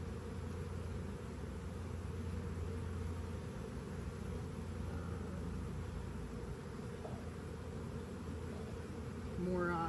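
A honeybee colony hums in a steady, dense buzz throughout a hive inspection, with faint handling sounds and a slight swell of buzzing near the end.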